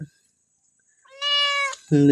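A kitten lets out a clear, close meow after a brief silence, followed by the start of a second lower meow. The kittens are one of two kept at home.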